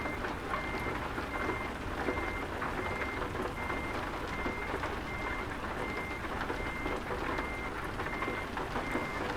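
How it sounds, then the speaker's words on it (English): A truck reversing in the Euro Truck Simulator 2 game gives off a steady train of repeated warning beeps over a constant engine rumble, with no talk throughout. "So now we're going to have to do a bit of reversing."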